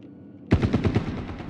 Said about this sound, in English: It's me, shooting.